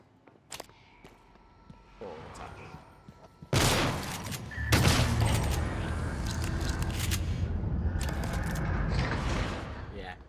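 A fully upgraded shotgun fires in the video game Prey, with two heavy blasts a second apart followed by sustained rattling combat noise. Quieter game sounds lead in before the shots.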